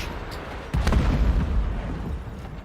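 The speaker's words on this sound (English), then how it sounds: "Explosion on an oil rig." In the video game Still Wakes The Deep, an explosion hits an oil rig: a sudden deep boom that swells into a sustained low rumble and roar lasting to the end.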